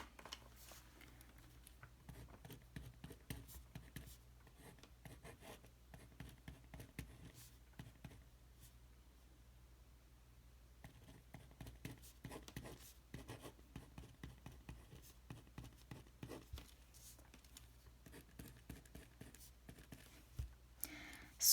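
A pen scratches out a math equation on paper in quick, soft strokes that come in short clusters, faint and close.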